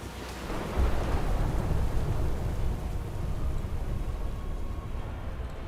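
A World of Warcraft thunderstorm with rolling thunder and heavy rain on surfaces surges loudly and stays dense and continuous, with no voices.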